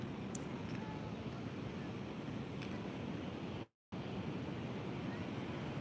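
Ocean surf from a pre-hurricane swell at Nags Head on the Outer Banks, a continuous distant roar of breaking waves with wind noise, briefly cutting out near the end.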